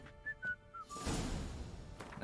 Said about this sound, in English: You, sir, need a new tune to whistle.